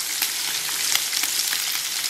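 Onion dropped into a pan of frying bubble and squeak gives a steady, loud sizzle with small crackles and pops throughout, and no voices.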